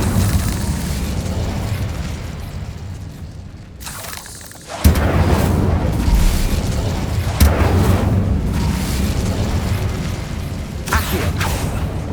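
An Incendio fire spell goes off in Hogwarts Legacy, a sudden bursting boom followed by a roaring, crackling wash of sound that stays loud to the end.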